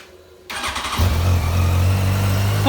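A Yamaha FZ1 motorcycle that had sat unused for seven years cranks and fires up, then settles into a loud, steady idle heard up close.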